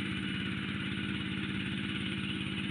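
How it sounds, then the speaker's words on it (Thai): A two-wheel walking tractor used for plowing rice paddies runs steadily up close. Its engine gives a fast, even chugging pulse that carries on without a break, and no one talks over it. "ได้รถไถอย่างเงี้ยแหละครับไถกัน"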